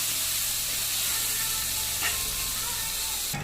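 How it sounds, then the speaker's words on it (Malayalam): Sliced onions and crushed aromatics fry in oil for a homestyle crab curry, making a continuous even sizzle with a brief utensil knock near the end. "ചതച്ചതും നല്ല സവാള അരിഞ്ഞത് നന്നായി മൂപ്പിക്കും."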